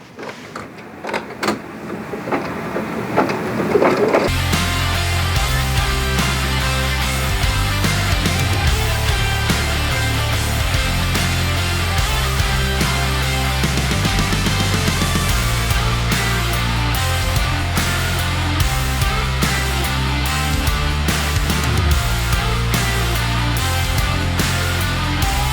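A sewing machine stitching a fabric bandage runs steadily and loudly for over twenty seconds with a fast, even mechanical chatter, after a few seconds of quieter handling and shuffling at the start.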